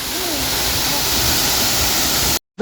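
A tall waterfall in Arunachal Pradesh roars as a dense, steady rush of falling water, loud and close, before cutting off abruptly near the end.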